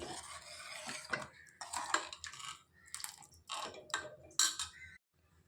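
A spoon scrapes and clinks around a pot of fresh field-bean (avarekalu) sambar after pressure cooking, in short bursts of metallic stirring with brief pauses, fairly quiet and close, with no talking.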